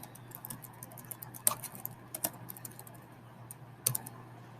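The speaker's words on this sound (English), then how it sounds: "I have mad typing skills, except when I go fast, I keep making mistakes" Quiet typing on a computer keyboard, a quick patter of light key clicks with a few sharper taps standing out, close and soft over a low steady hum.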